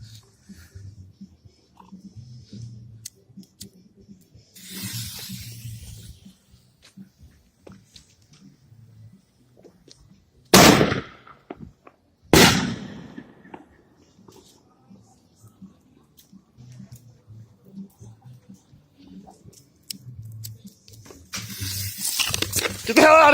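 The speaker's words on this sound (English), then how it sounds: "We're gonna double bang them all, one crack, get it over with for the New Year's." New Year's firecrackers going off outdoors, two sharp, loud bangs a couple of seconds apart against quiet background noise, with a person speaking between them.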